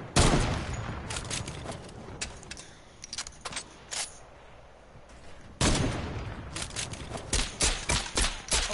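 Sniper gunfire in the game Bubble Bomber, shots fired in a rapid, spamming burst of sharp cracks, then a quieter stretch and another dense run of repeated shots.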